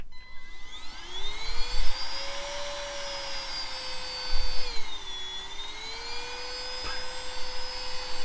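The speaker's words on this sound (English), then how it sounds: "I've got this rechargeable little miniature vacuum that was recommended to me by a friend" A small rechargeable handheld miniature vacuum cleaner sucks dust out of a wood stove, a steady whine that rises as it spins up and holds with slight pitch dips, close and loud, with a few bumps as the nozzle moves.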